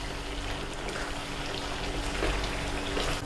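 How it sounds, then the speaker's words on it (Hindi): Mutton sizzles vigorously in a kadai, a dense continuous crackling and hissing fry, steady and close, with no talking heard. "देखें कितनी ज़ोर शोर से कढ़ाई भुन रही है।"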